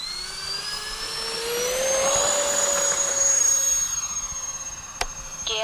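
An FMS A-10 Thunderbolt radio-controlled model jet taking off from a grass field: a steady, high-pitched turbine whine that rises and swells to a loud roar, then eases off, with a sharp click near the end.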